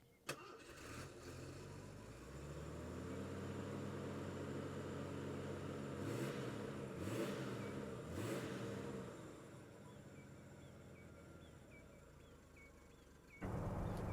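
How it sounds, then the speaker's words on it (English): A 1986 Jeep CJ-7 Laredo engine turns over and runs, holding a steady, close mid-pitched rumble with a brief rev before settling. "out driving in the Jeep so far"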